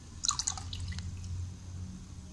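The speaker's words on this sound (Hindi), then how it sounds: "लेमन जूस भी डाल देंगे।" Lemon juice goes into a simmering chicken stock for restaurant-style hot and sour soup. A quick cluster of small splashes and drips is heard first, then faint, low kitchen background.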